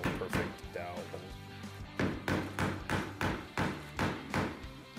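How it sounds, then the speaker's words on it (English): Sharp, evenly spaced hammer blows drive white oak dowels through holes drilled in a wooden farm-style desk, about eight loud knocks in quick succession after a short opening tap. "stuck my dowels, white oak dowels, in between and hammered them through"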